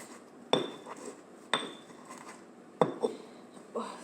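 Spices are mashed in a bowl with a few sharp, spaced knocks, four distinct hard strikes with small clinks after some, close and fairly quiet, without talk.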